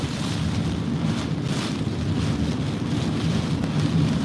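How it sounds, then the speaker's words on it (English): Strong gusts of wind during Hurricane Francine in Louisiana, a steady, loud roaring rush that buffets the microphone throughout, with no talking. "Well, 68 and 70-mile-an-hour gust now."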